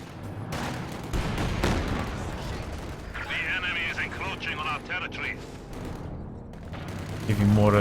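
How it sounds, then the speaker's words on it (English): A heavy mortar barrage and gunfire from the real-time strategy game Company of Heroes 2 rumble and crackle in repeated bursts, with a voice talking over the battle. "Heavy mortar trying to barrage this at long range, not connecting yet."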